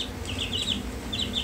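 Several chickens at a library pets storytime cluck in a quick, uneven run of short calls, moderately close over a steady background hum.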